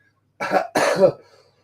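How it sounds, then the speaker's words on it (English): Two quick, close coughs in a row, then silence. "I need to cough 1 second."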